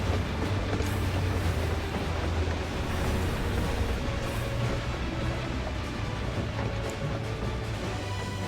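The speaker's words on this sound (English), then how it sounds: "Does it clickety clack? Here they come down the track." A train runs along the tracks in the video game Final Fantasy XIV, a steady, continuous rolling rumble with low mechanical hum that holds at an even level throughout, with no talking over it.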